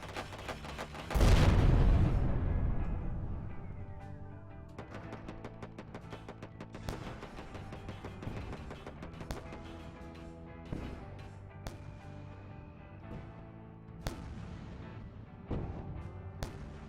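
Gunfire and explosions in the space game Wayward Terran Frontier: a heavy boom opens, followed by a long run of sharp, rapid weapon shots and impacts at moderate loudness, without speech.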